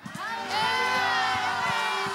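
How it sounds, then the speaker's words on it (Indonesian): A church congregation at an Indonesian worship service cheers and shouts praise together, a few short calls and claps, then a loud, sustained crowd roar of whoops and voices. "mari kan serukan sorak-soraimu bagi Tuhan"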